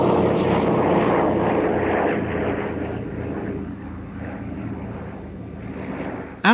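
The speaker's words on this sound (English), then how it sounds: "DC-3 Transport, or C-47 in military service" A Douglas DC-3 / C-47 propeller transport aircraft drones past with a loud, throbbing piston-engine roar that slowly fades and dulls, heard alone with no voices.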